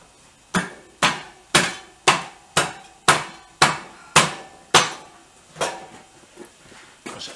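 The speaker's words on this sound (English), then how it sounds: "I've just taken the hammer over there, another plastic hammer" A plastic hammer taps parts of a BSA 350 motorcycle in a workshop, striking about a dozen sharp, evenly spaced blows close by with no voices, the last few hits growing softer.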